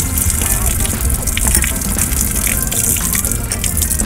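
Water gushes forcefully and continuously from a burst metal water pipe in a VW T4 van, a loud close spray with a rough, turbulent hiss and no pauses.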